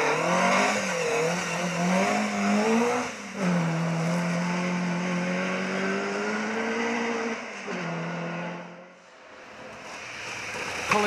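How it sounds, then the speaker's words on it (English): A Saab 96 V4 rally car on a mid-Wales forest stage, its engine running poorly with an uneven, wavering drone that sags and stumbles, briefly drops away, then picks up again. "Colin Hogue was going strongly in his Saab 96 V4, but as you can hear from the engine here, all is not well."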